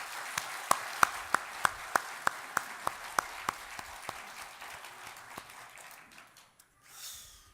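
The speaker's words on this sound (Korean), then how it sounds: "영광의 박수를 올려드리겠습니다." Sparse, rhythmic clapping at a church service, a dozen distinct claps in a steady beat that thin out and fade to quiet, with a soft rustle at the end.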